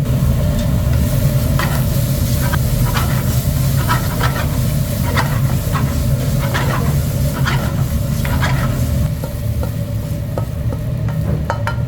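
Fried rice being stir-fried in a pasta delivery restaurant kitchen, a loud continuous sizzle and hiss with repeated rhythmic clanks of a ladle or spatula against the wok.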